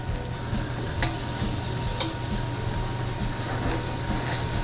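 Hanger steak sizzles in a hot pan with a steady, even frying hiss and a low continuous hum underneath, broken by a couple of faint clicks, with no talking.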